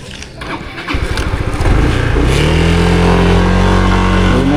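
A motorcycle engine cranks, catches and starts, then revs with a loud, steady mid-pitched drone that settles into a close, continuous idle.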